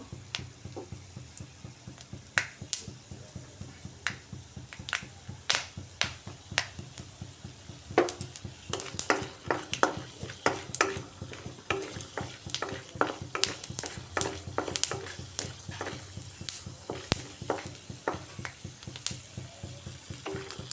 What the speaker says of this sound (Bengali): বাদামগুলাকে লাল লাল করে ফ্রাই করে নিচ্ছি বাদামগুলা ফাটছে